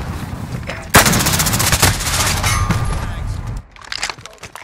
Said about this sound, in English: Hard point contested. Taking direct fire.